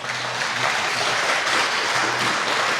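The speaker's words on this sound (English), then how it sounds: "Everybody clap." Dense audience applause at a tech conference talk, a loud, continuous wash of many hands clapping alone for a few seconds.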